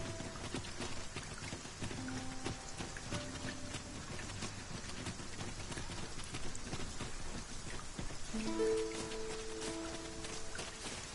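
Steady rain pours down in a fantasy world of the video game Dragon's Dogma, a constant hiss of drops throughout with soft musical tones drifting beneath it.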